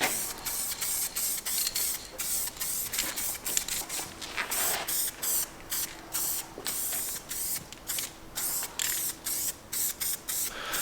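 Graffiti spray painting with Montana spray cans in pink shades at an abandoned site, short repeated hissing bursts of the nozzle separated by brief pauses, close and clear with no talking.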